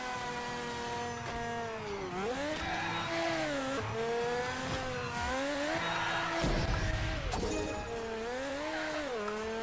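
Sports car engine in the tabletop racing video game Table Top Racing, a continuous loud whine rising and falling with each gear shift and throttle change, backed by steady game music.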